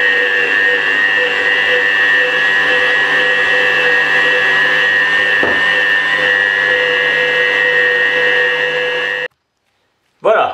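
A stand mixer kneads bread dough for a rustic round loaf with dried fruit, running on its first, fairly fast speed as a steady, loud motor whine with a brief bump midway, then cutting out near the end before a short restart.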